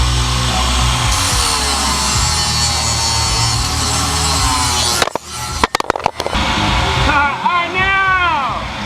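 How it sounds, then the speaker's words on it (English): Flap wheel grinding down metal on a Blazer rear axle mock-up, a loud continuous abrasive whine near the mic that cuts off abruptly, followed by clanks and talking voices. "I actually take the flapper wheel and grind that down"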